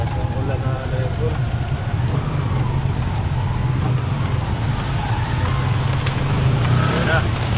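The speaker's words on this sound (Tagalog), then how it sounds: "Sobrang lakas ng ulan." Heavy rain drumming on a moving car, a dense steady wash over low road rumble, with a voice speaking loudly over it.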